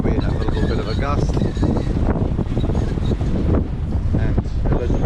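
Strong wind gusts buffet the microphone aboard a sailboat under mainsail and jib in about 10 to 12 knots of wind, a steady loud roar throughout with voices speaking over it.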